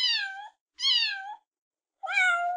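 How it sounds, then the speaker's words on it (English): A kitten meows three times, clear and close, each call a drawn-out high mew with short silent gaps between them and no voices. "every memory of every kitten video we've ever seen, ever"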